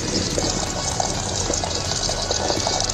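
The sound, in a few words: water running while washing flour dough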